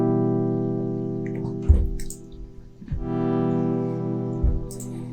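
Dry three-oscillator synth pad through a ladder filter with no reverb or EQ, sustained harmonic chords cut into short phrases with brief low thumps between them.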